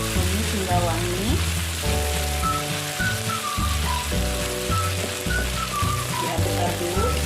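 Pesmol tilapia fish sauce is stirred in a pan, with a loud, steady sizzling and bubbling that runs throughout and overlapping scraping stir strokes, close by and with no talking.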